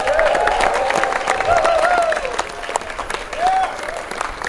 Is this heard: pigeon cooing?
no